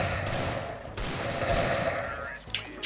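Rapid bursts of gunfire in the video game CS:GO, dense and loud throughout with sharper isolated shots near the end.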